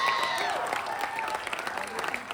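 Loud applause from a standing audience for Sumit, a theatre performer and medal winner, at a Bihar Diwas celebration in a university hall; dense, sustained clapping with crowd noise and faint voices mixed in throughout.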